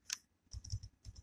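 A few soft, close keystrokes on a computer keyboard, a short isolated click followed by two small bursts of taps, quiet and without talking.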